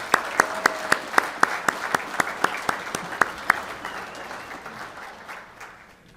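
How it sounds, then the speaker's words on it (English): A round of applause at an annual ECA installation and awards dinner, with a few close, crisp, evenly spaced claps over a wider room of clapping that fades out over several seconds. "So I want to give all three of them a round of applause."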